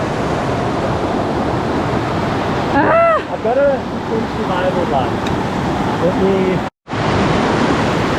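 Water of the Nguza River rushing steadily at a crossing point in the Mnweni Drakensberg wilderness, a broad continuous roar close by, with someone speaking over it and a brief dropout near the end.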